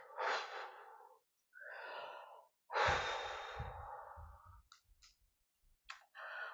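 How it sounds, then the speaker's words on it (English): Deep, slow breaths during a yoga exercise: several long, audible inhales and exhales in a quiet room, close and soft, followed by a few faint clicks. "that was a lot of breathing"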